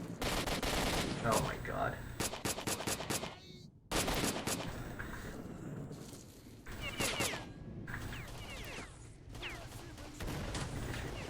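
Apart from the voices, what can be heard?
automatic rifle gunfire in video game S.T.A.L.K.E.R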